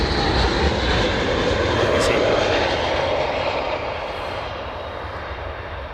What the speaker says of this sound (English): That's definitely the scrubbing sound of the tyres on the runway surface.